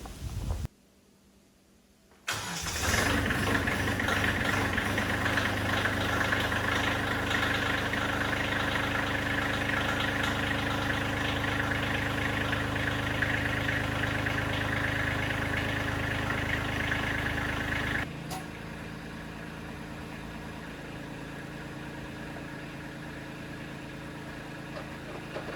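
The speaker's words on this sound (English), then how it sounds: "So let's get the tractor out and see what it can do." A tractor used for plowing snow idles steadily with a low, even rumble, loud and constant, then drops to a quieter hum near the end.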